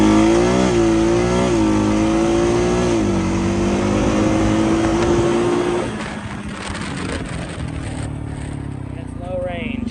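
Honda DCT motorcycle pulling away in first gear, low range, its engine revving up loud and close in rising, stepped pitch before easing off into a lower rumble, with someone talking over it.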